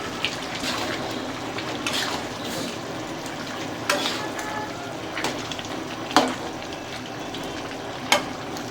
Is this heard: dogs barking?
no